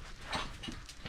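A dog whimpers softly and pants in short, quick breaths, a faint close-up sound lasting about a second with no voices.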